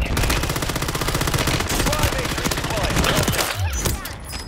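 Heavy video game gunfire, a sustained automatic burst of rapid, loud shots that hammers on without a break, with a voice briefly audible near the end.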